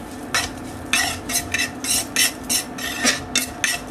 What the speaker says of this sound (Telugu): 1/2 స్పూన్ మెంతులను కూడా వేసుకుని ఇప్పుడు వీటిని కూడా లో ఫ్లేమ్లో బాగా ఫ్రై చేసుకోవాలి